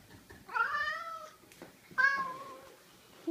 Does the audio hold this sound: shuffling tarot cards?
no